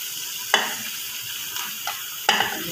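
Potatoes frying in a pan, with eggplant being added, give a soft continuous sizzle. Four sharp spatula scrapes and clacks break it at irregular intervals, loud and close, with no talking.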